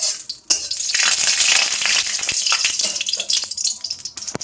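Whole spices crackle and sizzle sharply in hot oil for tempering, a loud, dense frying hiss with popping bursts that starts abruptly and continues steadily throughout.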